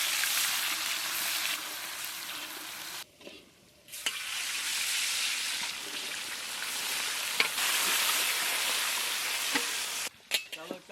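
Dried red chillies and cumin crackle in hot mustard oil in a pan, a loud steady sizzle with stirring that lasts almost the whole time, broken by two short pauses.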